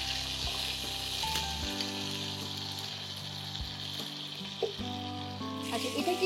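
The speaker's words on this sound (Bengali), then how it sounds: "ওটার মধ্যে আমি মানে এটা তেলে দিয়ে দিব, যে অল্প নুন আর হলুদ দিয়ে হালকা একটু ভেজে নেব।" Pumpkin shoots frying lightly in oil with a little salt and turmeric, a steady close sizzle with a few soft stirring scrapes and clinks, and no talking.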